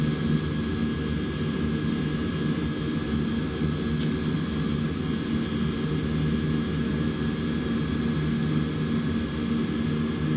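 Airbus A320 jet engines droning in a flight simulator, a steady broadband roar with a constant hum and a few faint clicks, no voices.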